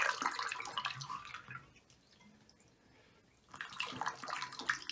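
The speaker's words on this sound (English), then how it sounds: "we're going to do is pour some bleach down in there again" Bleach poured down into a lodge water tank makes a gushing, splashing liquid rush that fades to quiet drips, then surges again with renewed pouring.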